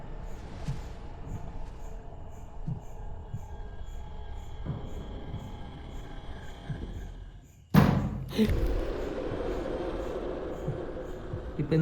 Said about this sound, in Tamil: இப்போ இந்த நாக் சவுண்ட் பண்ணது நீ தானா?